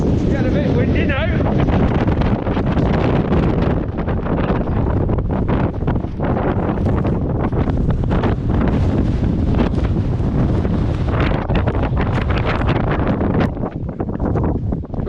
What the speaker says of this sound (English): Winds have picked up. It's absolutely freezing.